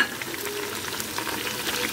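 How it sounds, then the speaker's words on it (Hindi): Beef sizzles steadily as it is sautéed and browned in a pan for nihari, a soft continuous frying hiss with faint stirring and no voices. "अब व्यूअर्स हम इसमें गोश्त डाल रहे हैं और इसकी भुनाई कर रहे हैं"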